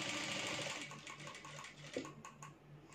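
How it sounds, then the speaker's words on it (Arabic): A sewing machine stitches along a sleeve seam, a quiet, fast, even needle rattle that slows with a few soft clicks toward the end. "بمشي على خياطة الكم بتاعي"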